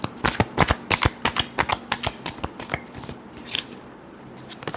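A deck of tarot cards is shuffled by hand, a rapid run of crisp riffling flicks and slaps close up, steady at first and then tapering off.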